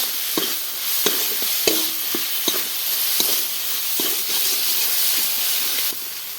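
Ground spices, Kashmiri chilli powder and coriander powder, sautéing in a pan for a wild mushroom curry, a steady close sizzle and hiss with periodic sharp scrapes and knocks of a spatula stirring against the pan.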